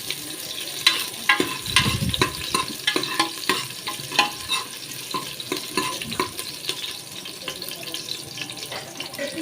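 Sliced onions frying in hot oil toward golden brown for a Rayalaseema-style mutton pulusu, a close, steady sizzle broken by repeated sharp scrapes and clinks of a spoon stirring against the pan.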